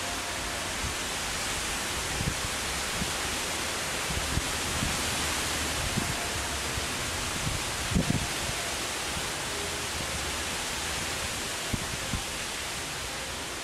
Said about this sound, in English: I'm just gonna let the wind pass while I'm thinking.